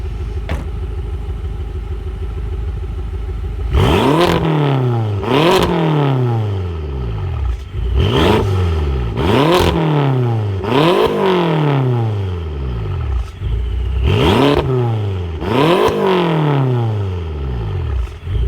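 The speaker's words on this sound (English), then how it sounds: "So let me show you an exhaust clip." A tuned BMW M6 with a V10 engine revs hard in repeated bursts, each roaring up and dropping back, loud and close with a rough, popping exhaust note between blips.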